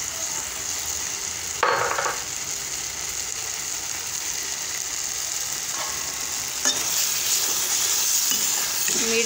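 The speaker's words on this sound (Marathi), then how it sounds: "मीठ झालं की एकजीव करून घेऊ पूर्ण।" Salt being stirred into tomato rassa bhaji in a pan: a steady, close sizzle and simmer with a few scraping spoon strokes and light clinks against the pan.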